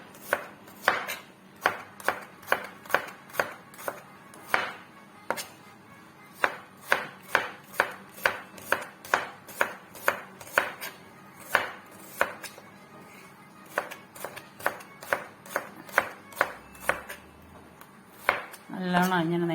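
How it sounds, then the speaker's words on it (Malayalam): A knife slices an onion lengthwise on a cutting board, making a long run of crisp, evenly spaced chops close by, with brief pauses between bursts. "ഈ സവാള വേണ്ട നീളത്തിലരിഞ്ഞ്"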